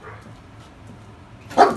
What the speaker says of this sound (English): This is Reed interrupting her barking now.